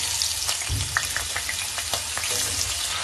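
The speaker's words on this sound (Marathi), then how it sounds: "तर तेल आता चांगलं गरम झाले. त्यामध्ये आता हे बटाटे घालायचे." Potatoes sizzle steadily in hot oil in a kadhai, a continuous close frying crackle with a few sharper pops and stirring scrapes throughout, with no talking.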